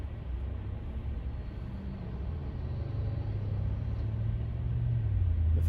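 A Tesla Cybertruck on Full Self-Driving slows and comes to a stop on its own, a steady low road rumble and tyre hum inside the cabin that swells slightly toward the end.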